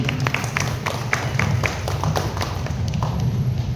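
An audience claps together at a Telugu spiritual talk, a loud, dense patter of many hands with distinct sharp slaps standing out, sustained steadily throughout.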